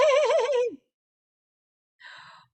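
A person imitates a horse's neigh with their voice, giving one loud wavering whinny, then a short fainter breathy snort after a pause.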